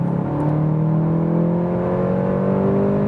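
A 265 hp VW Golf GTI Clubsport pulls hard in third gear from 80 to 120 km/h on the Autobahn. Heard from inside the cabin, its engine note climbs steadily, loud and close, with no talk.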